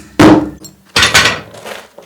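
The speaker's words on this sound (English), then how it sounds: "Let me see if I can break this concrete." A hammer strikes a concrete shower pan in two heavy, loud, close blows, followed by a fainter knock.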